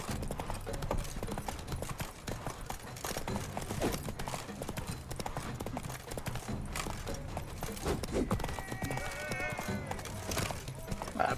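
Horse hooves clip-clop steadily through mounted combat in The Witcher 3, a continuous galloping rhythm set within dense game music and battle effects.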